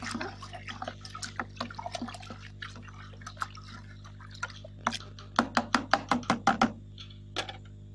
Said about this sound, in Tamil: மீதி இருக்க 50 மில்லி நான் அப்படியே ஊற்றி கலக்கிட்டேன்